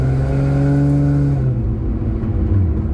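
A Cadillac STS fitted with a Roar pedal throttle controller accelerates, its engine note climbing steadily as revs build, then easing into a lower rumble; loud and close, with no voices.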